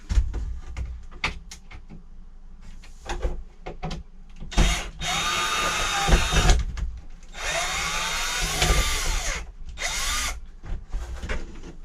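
Power drill backing square-head screws out of RV drawers, several short whirring bursts followed by two longer loud runs with rising and falling pitch, close up and alone with light handling knocks between.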